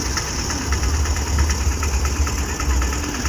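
A Tata Ace mini truck's engine idles with a steady low rumble and faint rhythmic knocking, heard close and continuous without voices.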